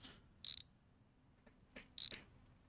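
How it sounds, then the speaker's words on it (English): A wrench works loose the spare wheel on an old Chevy jacked up in a garage, giving two short bursts of sharp ratcheting clicks about a second and a half apart, with faint knocks between them. "We're going to grab the wrench. Let's undo this wheel, the spare tire."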